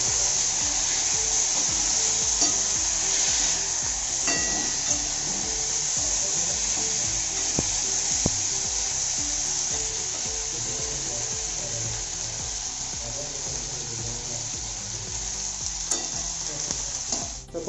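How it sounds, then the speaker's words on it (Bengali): Chicken kosha, Bengali-style spiced chicken, sizzles and fries steadily in a pan while a metal spatula stirs it through the spices. The frying is loud and continuous, with occasional scraping clinks, and no one speaks. "এরপর খুন্তি করে আমরা ভালো করে মশলার সঙ্গে মাংসটাকে নাড়াবো।"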